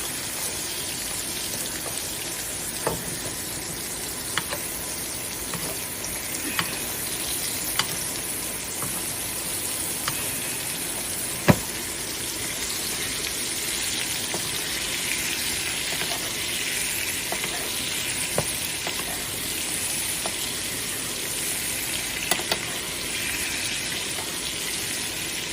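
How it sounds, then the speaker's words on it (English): Steak sizzles steadily in a hot pan while truffle butter is spooned over it for basting, a constant crackling fry with occasional sharper pops and spatters throughout. "Going in with a little of this truffle butter to baste it with."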